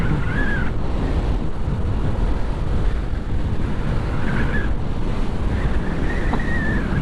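Yamaha Aerox scooter riding fast on an expressway, heavy continuous wind buffeting over the microphone with a low engine drone beneath, loud and unbroken, with faint whine-like tones appearing briefly.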